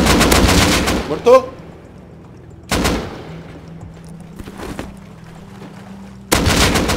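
Loud bursts of gunfire in the survival video game Rust, with three heavy volleys separated by quieter stretches and a single short spoken word between them.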